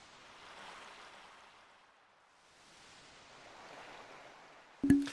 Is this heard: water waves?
yes